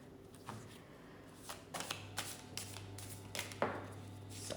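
A deck of playing cards is shuffled, with quick riffles and flutters arriving in short bursts close by, no voices present.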